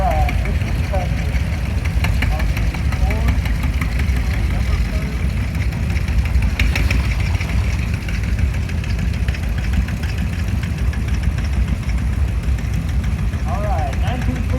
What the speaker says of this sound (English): Alright, this is the tractor.